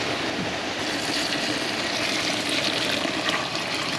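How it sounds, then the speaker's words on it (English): Stock poured into a jambalaya pot of softened vegetables for outdoor cooking, a loud, continuous rushing splash of liquid that stays steady from start to finish. "we're going to go ahead and add our stock"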